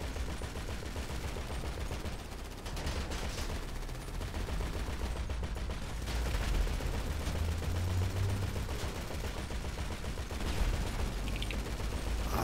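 A vehicle-mounted machine gun in GTA 5 fires in steady, unbroken bursts for the whole stretch, loud and close, with a rumbling low end and no talk over it.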